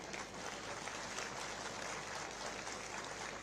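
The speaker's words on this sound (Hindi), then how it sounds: "जोर से ताली बजाइए" A distant crowd applauds a police parade at the Uttarakhand foundation day celebrations in Dehradun; soft, continuous, evenly textured clapping sounds far off and rather faint throughout.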